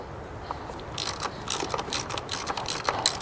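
A ratchet wrench clicks steadily as it backs a 10 mm bolt off a plate during a Mazda 6 valve cover gasket job, its close, rapid ratcheting clicks repeating in short bursts over a quiet workshop background.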